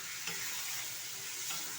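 Pointed gourd and paneer curry with yogurt sautés in a pan, giving a steady close frying hiss with soft stirring scrapes throughout, no voices.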